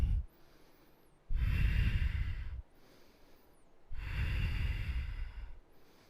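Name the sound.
powerful breathing during a yoga class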